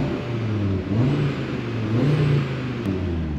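An Audi RS3-R ABT 500 hp engine revs up and down steadily, a loud throaty drone rising in pitch twice, close by with no talking.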